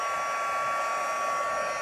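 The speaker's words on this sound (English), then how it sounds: "I am going to grab my heat tool, and we are going to do some embossing." A heat tool blows hot air for embossing stamped paper craft work, a steady, close whirring fan hiss with a faint tonal hum, unbroken for the whole stretch and without talk.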